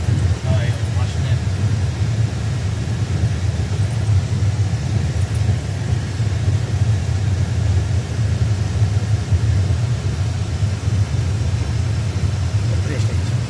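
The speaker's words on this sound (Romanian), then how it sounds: "E o mașină." A car engine drones in a steady low rumble throughout, close and continuous like an interior cabin hum on a mountain road in the wild Carpathians, with people talking faintly over it.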